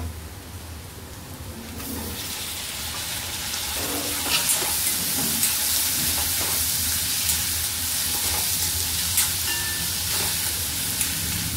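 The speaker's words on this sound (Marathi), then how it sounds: "कांदा चांगला फ्राय झालाय, त्याच्यात टोमॅटो टाकूया।" Onion and tomatoes frying in a pan for methi bhaji, a steady close sizzle and hiss that grows louder after a couple of seconds, with occasional stirring scrapes and no talk.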